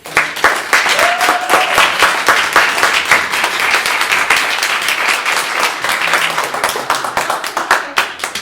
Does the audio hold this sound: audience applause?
yes